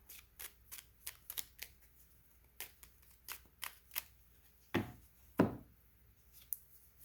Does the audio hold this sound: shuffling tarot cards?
yes